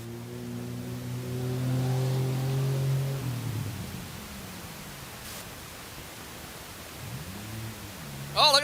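Cruiser race cars rev and accelerate hard at an off-road speedway, a loud engine drone rising in pitch over the first few seconds, then fading into broad crowd and track noise before a second engine sweep.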